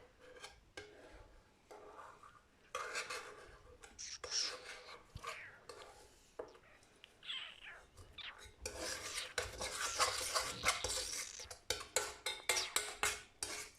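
Marshmallow mixture of gelatin and water is stirred in a bowl, with scattered scraping and clinking of a spoon, rising to busier, louder rubbing toward the end, fairly close and quiet.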